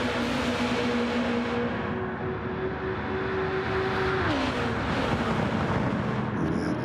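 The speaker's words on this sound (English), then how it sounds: "These cars look and sound great going around here." Race cars lapping the Nurburgring in a racing video game, a dense continuous engine roar with a steady high whine that drops in pitch as gears shift, loud and unbroken throughout.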